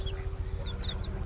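Baby chicks peep in short, high chirps while hens make low clucks close by, set against a steady low background rumble.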